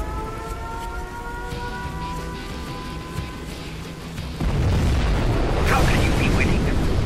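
Nuclear missile launch in Command & Conquer Zero Hour, a sudden loud rumbling roar that swells midway over a quieter ambient battle scene and stays strong to the end.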